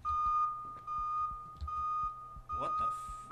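Fire or smoke alarm in the video game Mind's Eye, beeping steadily as a repeating high electronic tone with a low pulsing hum beneath, fairly loud and close, with a brief burst of other noise near the end.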